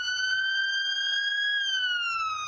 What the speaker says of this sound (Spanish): Cuando una ambulancia se acerca a nosotros, la longitud de onda de la sirena se comprime.